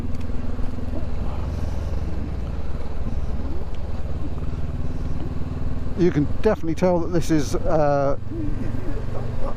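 Steady engine drone of an adventure trail motorcycle riding along country lanes, heard from on board with constant wind rumble, while a rider talks over it for part of the time.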